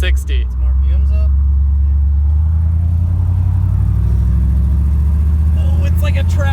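A Ford Galaxie's engine rumbles deep and loud as it revs up and accelerates toward 60, a steady low drone heard from inside the car, with a voice speaking briefly at the start and end.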